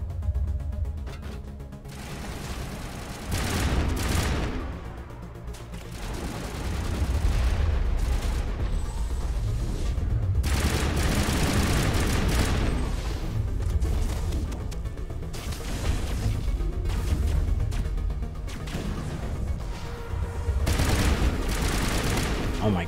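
Repeated gunfire and explosive booms from the video game Mass Effect Legendary Edition, including an N7 weapon and a sniper rifle, come in irregular bursts and volleys over a long firefight, with a player's voice cutting in now and then.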